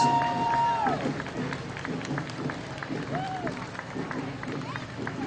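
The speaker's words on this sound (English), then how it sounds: "Big round of applause." Crowd applause and cheering along a parade route at Strolling of the Heifers in Brattleboro, Vermont, a steady wash of clapping with crowd voices and a few whistles throughout.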